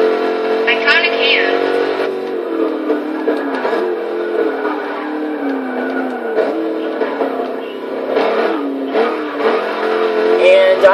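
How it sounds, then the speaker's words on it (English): A Camaro V8 engine in the racing video game Forza Motorsport 6 revs and drones steadily, pitch rising and falling through gear changes, loud and close, with occasional shifts between revs. "can you hear my V8 from back there?"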